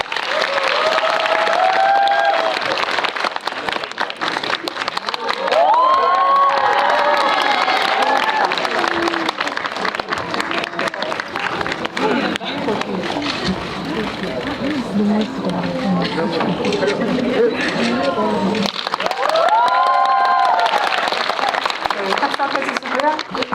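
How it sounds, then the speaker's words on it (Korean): A Korean cinema audience at a film talk event applauds and cheers loudly and continuously as guests arrive, with dense clapping and a few shouts, and an amplified host's voice cutting through over the crowd. "큰 박수로 맞이해주세요"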